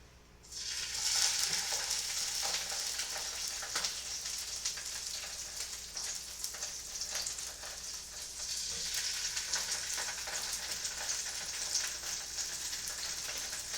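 Large salmon fillets sizzle steadily in a hot pan, a dense, even crackle and hiss that carries on for the whole stretch without talk.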